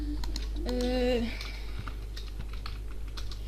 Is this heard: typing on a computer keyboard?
yes